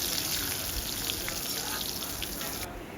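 Shallots and a sprig of curry leaves fry in hot oil for a Kerala puzhukku, giving a close, steady crackling sizzle that continues without a break.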